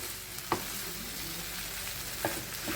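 Grated coconut being stirred into a bitter gourd and potato gojju in a pan, with two brief, distinct scrapes of the spoon over a steady, soft hiss.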